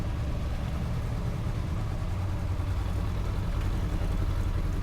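A Honda CB500X motorcycle on a ride to Betong drones with a steady, low rumbling engine note and constant wind, continuous and loud with no pauses or talk.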